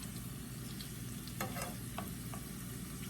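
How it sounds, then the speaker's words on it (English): Bacon egg rolls sizzling in a pan after a flip, a faint continuous frying hiss with a few light clicks from turning them, close and without talk. "I'm gonna give these guys a little flip."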